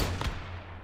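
A single sharp gunshot in the survival shooter Once Human, one loud crack at the start that decays quickly into a low rumble, with no voices.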